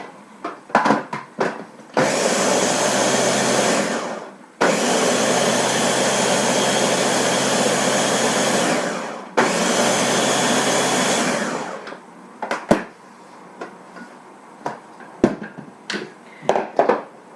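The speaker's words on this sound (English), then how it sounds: "And I blend this up. That way all the dry ingredients are totally mixed together." Blender mixing dry ingredients for pumpkin waffles, whirring loudly in three bursts of roughly two, five and three seconds, with clattering handling sounds before and after.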